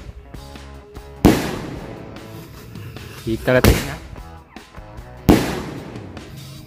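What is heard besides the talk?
ball-launcher firecrackers exploding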